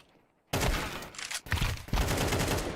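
Mac 10 submachine gun fire in a competitive shooter game, a sudden loud burst of rapid automatic shots after a brief quiet, broken by short pauses between sprays.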